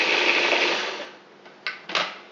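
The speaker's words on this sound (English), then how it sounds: "I've washed and dried my Italian parsley, and I'm going to add that to my food processor now" A food processor chops Italian parsley, its motor whirring loud and steady for about a second before slowing, then two short pulses buzz back up.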